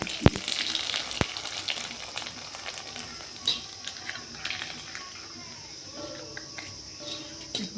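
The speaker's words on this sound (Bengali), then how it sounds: "এরকম করে তেল দিয়ে আপনি পুরো ভেজে তুলে নেবেন" Potato and sago papad fry in hot mustard oil in a pan, a soft, continuous sizzle broken by scattered crackles and sharp pops, heard up close with no talk.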